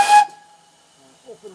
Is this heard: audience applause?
no